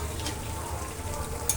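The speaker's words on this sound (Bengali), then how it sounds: "মাংসটাকে কষতে হবে।" Chicken being sautéed and stirred in a full wok (kadai), a dense, close sizzle of meat frying in oil with brief scraping near the end.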